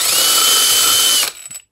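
A 10 mm drill bit spinning loud and steady through the holes of a 3D printed frame wall, whining evenly for over a second before cutting off, with a few faint clicks trailing after.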